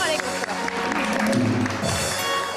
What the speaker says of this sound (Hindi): तो जी तालियां दोनों के लिए बहुत सारी।